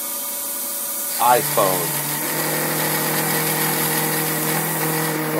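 A Dyna Myte 2400 CNC mill runs its first cut, a steady tonal motor hum with layered harmonic drones, while a person talks briefly near the start.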